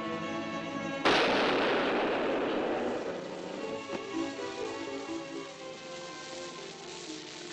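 A single loud dynamite blast at a mine in a western drama, a sharp close detonation followed by a long rumbling decay and scattered falling debris.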